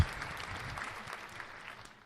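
Brief, faint clapping from a small crowd fades out over a couple of seconds.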